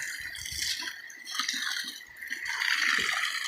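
Water gushes and splashes steadily from a garden water pipe, a continuous rushing flow close by with small gurgles and drips.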